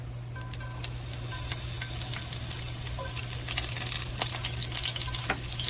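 Onions fry in a heated cast iron pan with a steady, bright sizzle, punctuated by scattered pops and spatters and a low hum underneath.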